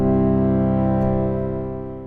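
Sustained pad from a Korg Prologue 8 synthesizer with its LFO intensity turned fully down, a steady rich chord holding evenly without wobble and slowly fading slightly, heard alone.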